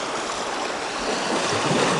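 A forest creek spilling out into Lake Michigan at an eroding sandy shore, a steady broadband rush of flowing water and surf, continuous and close with no talk.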